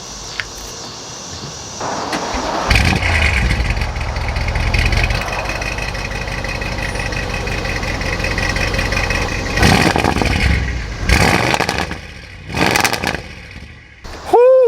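A loud modified 2018 Audi RS7 engine running on E85 fuel cranks and catches, settles into a rough rumbling idle, then gets several sharp blips of revving near the end.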